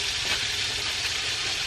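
Dried fish fries in hot oil in a pan, giving a steady, dense, loud sizzle and crackle that runs without a break, close up, with no voices.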